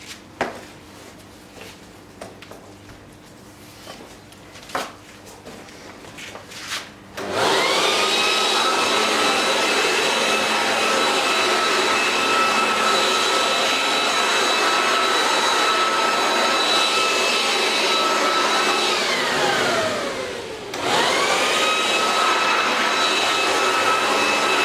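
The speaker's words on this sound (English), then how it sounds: "Now let's try the blower mode. So we'll just flick it to blower mode" An Ozito 3-in-1 leaf blower switched to blower mode starts up after a few seconds of quiet handling, then holds a loud, steady, close rushing roar with a high whine, briefly dipping once before surging back to full power.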